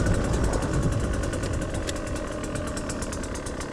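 A 2022 Husqvarna TE 150i motorcycle engine idles steadily while warming up, a constant close rumble with no speech over it.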